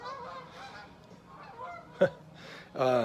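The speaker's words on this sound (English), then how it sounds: "Geese." Geese honk overhead, several nasal calls scattered across the moment, one sharp honk then a louder burst near the end, fairly close.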